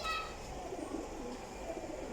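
Teddy and Sialkoti pigeons in a pigeon dealer's loft give faint, low, continuous cooing and murmuring, heard from a distance under soft background noise.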